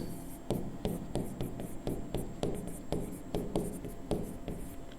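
Chalk or pen writing during a Class 12 physics lesson, heard as a steady series of short scratchy strokes and taps, fairly close and alone without talk.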